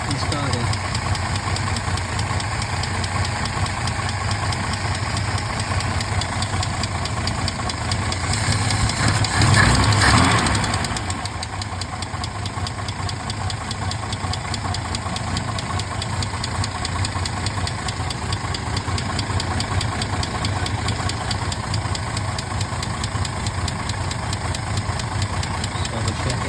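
A 1968 Mercedes-Benz 230 engine with a Zenith 35/40 INAT carburetor runs steadily close by, restarted after sitting about four weeks, with a continuous low rumble and a brief surge of noise partway through.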